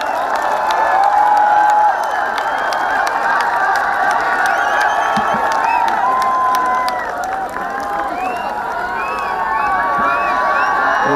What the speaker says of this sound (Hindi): तो जोरदार हाथ उठाकर तालियां बजाइए